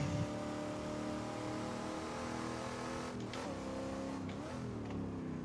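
A racing car engine in the racing game Assetto Corsa, an HSV Clubsport or GTS-R, revs high and steady, its pitch climbing, then briefly dipping at a short shift into third before pulling hard again.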